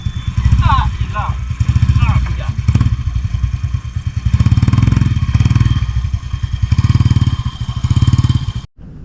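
A loaded-up motorcycle idles close by with an uneven, chugging rumble that swells and dips, while a person talks over it.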